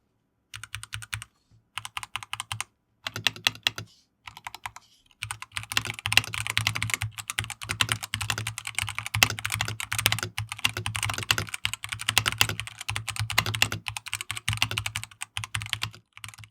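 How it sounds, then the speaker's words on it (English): Light, fast typing on a Marsback M1 hot-swap mechanical keyboard fitted with 45-gram MBS1 switches and no foam inserts, close-up clacking in short runs with brief pauses at first, then continuous dense keystrokes. "MBS1 switches, which uses the 45 grams of force, and while they're super fast and light to type on"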